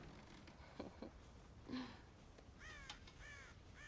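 Crows in a Red Dead Redemption farm scene caw several times, harsh repeated calls rising near the end over quiet outdoor ambience.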